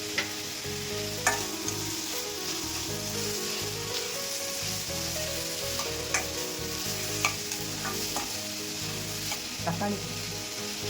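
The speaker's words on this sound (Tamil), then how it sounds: "கொஞ்சம் வதங்கினவுடனே பச்சை மிளகா போட்டு" Chopped green chillies and onions sizzling steadily in oil in a pan while being stirred for a homemade sandwich filling, a constant close frying hiss with occasional spatula clicks, and a single word spoken briefly.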